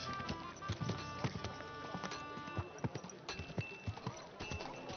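Horse hooves clip-clop in a steady rhythm, close and clear, with faint background ambience underneath.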